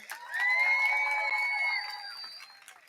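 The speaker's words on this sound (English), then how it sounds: "Let's have another round of applause for our salutatorian and valedictorian" A graduation crowd at a high school commencement cheers and applauds loudly, with a sustained high shout or whistle riding over the roar for over a second before the noise slowly tapers off.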